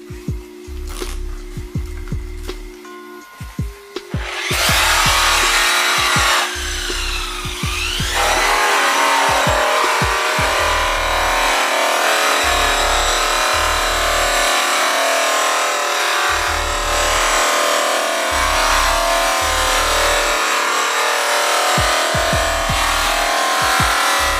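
A DeWalt polisher with a Zephyr pad works a chrome wheel at 3,500 RPM. After a quieter start it spins up into a loud, steady whirring roar with repeated rhythmic low thumps throughout.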